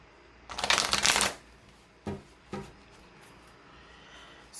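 Oracle cards are riffled in one loud burst, followed by two quieter shuffling rustles of the deck at close range, with no talking.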